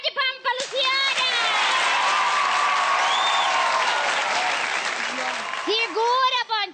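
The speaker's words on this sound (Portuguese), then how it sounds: "a salva de palmas pra Luciana!" A television talk-show audience on Luciana By Night claps and cheers for host Luciana, loud sustained applause with excited voices calling out over it, tapering as people talk at the start and end.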